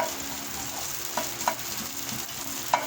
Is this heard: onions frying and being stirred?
yes